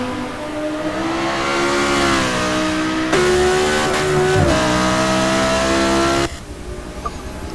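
Race cars including a VW run side by side in a pro-am race, engines revving loudly and continuously with rising and shifting pitch, close and dominant, easing off toward the end.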